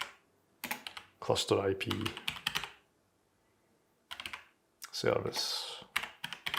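Rapid keystrokes clatter on a computer keyboard in several bursts with short pauses between them, close and crisp, while someone speaks briefly alongside the typing.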